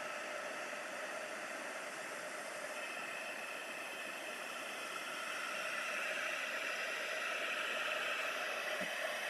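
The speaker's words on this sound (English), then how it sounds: "So I've just got the heat tool going." A heat tool for drying gold splatter paint blows a steady, fairly faint hiss that holds without a break and grows slightly stronger near the end.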